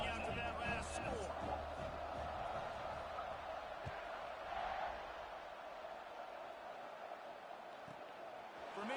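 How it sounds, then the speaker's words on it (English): Football stadium crowd in Tennessee buzzing after a touchdown, a broad, distant murmur and roar that swells early and then slowly settles, under a commentator's voice. "this crowd is buzzing after that last score"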